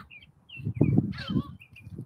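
Seagulls give short, thin, repeated calls at close range, mixed with a few low bursts of nearby sound.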